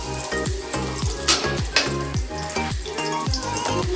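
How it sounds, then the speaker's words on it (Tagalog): Garlic and onion sauté in a pan with a steady sizzle. Rhythmic spatula strokes sound roughly twice a second, along with a few brighter scrapes. "So, saute lang natin yung bawang at sibuyas."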